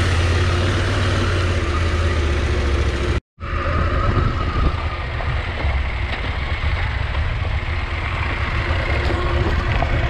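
A KTM adventure motorcycle on a rocky trail on Racehorse Pass, its engine droning loudly and steadily with rough low rumble, broken once by a brief dropout before the ride continues.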